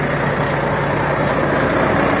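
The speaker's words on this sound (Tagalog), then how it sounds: "ito yung ano niya, yung reefer engine niya, yung makina ng refrigerator niya" A reefer refrigeration engine mounted on an Almarai truck trailer behind the tractor head runs at a steady, loud, close drone with no talk.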